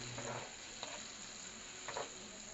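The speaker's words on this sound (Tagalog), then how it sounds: "Isama na din natin ang toyo na may bawang at Sprite na binabada natin ng karne kanina. At haluin ito sandali." Pork adobo stirred in a pan with its soy sauce, garlic and Sprite marinade, giving a faint, steady sizzle with a few soft scraping stirs heard alone.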